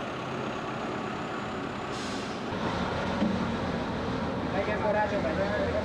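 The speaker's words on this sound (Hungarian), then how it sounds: "Indul az autóbuszos körtúra a garázsban." Ikarus 260 buses setting off inside the BKV Mező bus garage on its last day, a low diesel rumble that builds as the buses pull away, with a brief hiss of air brakes.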